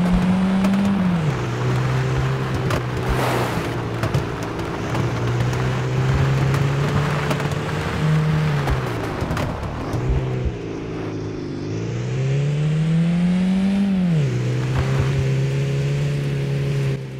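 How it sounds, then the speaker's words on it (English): An old, rough-running car engine in the driving game Beware, droning loudly and continuously with its pitch rising and falling as it shifts and revs, no talk. "This engine is not exactly supposed to sound like a champion of the road."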